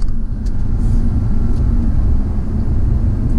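A 2011 Audi R8 Spyder accelerates briefly with a loud, close, deep engine and exhaust rumble heard from inside the cabin, holding steady throughout.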